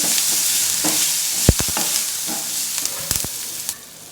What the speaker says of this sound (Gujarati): બધું બરાબર મિક્સ કરી લઈએ